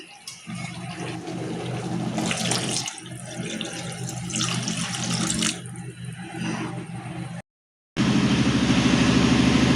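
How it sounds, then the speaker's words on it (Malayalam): Water poured into a pot of rasam splashes and runs in a steady stream, mid-loud and close, with a short pause before the flow resumes, and no one speaking. "വെള്ളം ഒഴിച്ച് കൊടുക്കാം."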